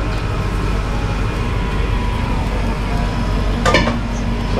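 Meat simmering in its own juice, a steady bubbling with faint sizzling in the background, broken briefly by a light clink of a utensil near the end.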